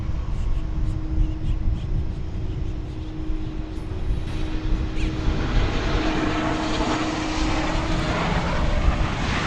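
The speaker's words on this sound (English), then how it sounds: "Japan Airlines Flight 12 arriving from Narita Airport, or Haneda Airport" A Japan Airlines airliner arriving at DFW Airport, its engines giving a steady, loud roar with a low hum that swells slightly toward the end, with no talking.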